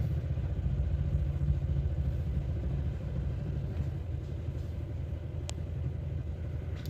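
A small engine runs at low throttle, a steady low rumbling idle with a faint mechanical clatter, close and continuous throughout without talking.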